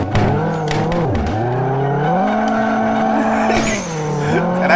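A Chevrolet Omega with a 4.1 engine revs hard at a drag race, its loud engine note climbing steadily, dipping briefly, then rising again across a continuous roar up close.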